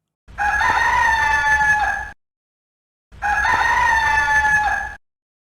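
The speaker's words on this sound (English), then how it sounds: "the talk sound effect is that of a rooster." Two loud rooster crows used as a talk sound effect in an indie video game, each lasting almost two seconds and separated by a short silence, clear and close with no other sound.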